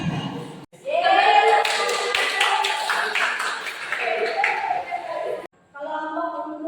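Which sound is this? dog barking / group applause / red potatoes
group applause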